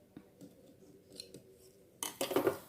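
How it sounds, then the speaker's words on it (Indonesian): Scissors snip through sewing fabric during a horsehair braid tutorial, a few quiet cuts followed by a louder, closer burst of crisp cutting near the end. "Kita gunting dulu."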